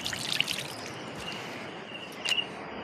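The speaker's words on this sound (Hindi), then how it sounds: "पानी से वॉश कर लेते हैं उसको अच्छे से" Water poured steadily over vegetables as they are rinsed in a home kitchen, a soft continuous splashing trickle at low level with no talk.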